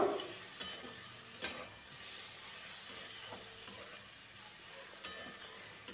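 Vegetables with mustard paste being stirred in a pan for a Bengali cauliflower-stem chachchari with radish, eggplant and lentil dumplings: a steady soft sizzle under scattered faint scrapes and clicks of the spatula.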